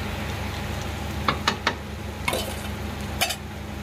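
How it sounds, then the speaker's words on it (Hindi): Chopped onion with cumin and red chili frying in a pan for chicken curry, steady soft sizzle with a few sharp scraping clicks of stirring, close by, no talk. "ये देखिए, बीच बीच में एकदम प्याज को चलाना पड़ रहा है।"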